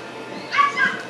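Puppies in a mall pet shop give a short burst of high yips and whimpers, close and moderately loud, lasting about a second.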